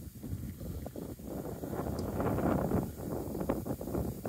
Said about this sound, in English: It's really windy and sunny.